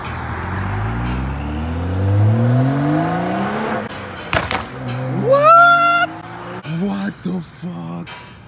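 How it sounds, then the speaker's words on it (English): A Honda Civic with a freshly installed aftermarket exhaust revs hard and close by, its engine climbing in several rising pulls, then cracking and popping through sharp blips and bursts; a voice briefly joins near the end. "He just got his exhaust done and I want you guys to hear how good this thing sounds."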